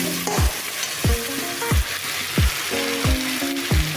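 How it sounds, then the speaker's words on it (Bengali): Dried red chillies sauté in a pan of mixed fish curry, a loud continuous frying sizzle broken by a regular series of about six sharp stirring knocks and scrapes against the pan. "শুকনো লঙ্কাটা দিয়ে আমি ভালো করে কষিয়ে নেব"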